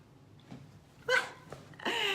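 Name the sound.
big brown Labrador dog barking loudly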